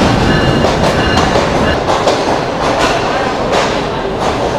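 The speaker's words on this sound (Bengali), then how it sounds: "এই যে আমারও ট্রেন চলে আসছে, যার জন্য অপেক্ষা করতেছিলাম।" A Green Line passenger train pulls into a station with loud, steady rumbling and rhythmic clatter of carriages on the rails, persisting throughout.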